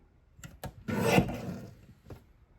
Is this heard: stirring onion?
no